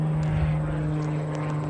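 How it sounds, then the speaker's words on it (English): A propeller airplane drones steadily overhead beside a road trip up north, a constant low engine hum with a strong steady tone holding level throughout, fairly loud and continuous with no voices. "plane."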